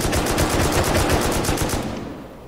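Rapid automatic gunfire in the survival video game Rust, a loud, dense burst of evenly spaced shots lasting about two seconds before trailing off.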